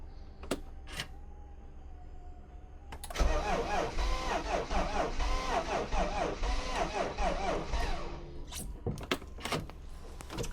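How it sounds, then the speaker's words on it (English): A few clicks, then an engine with no compression cranks with an even, rapid whirring churn for several seconds without catching, followed by scattered knocks. "is the sound of an engine that's got no compression"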